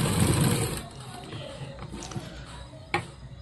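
Sewing machine running steadily as it stitches a blouse sleeve along its piping, a loud motor whir at first that eases into a quieter hum with small taps and clicks.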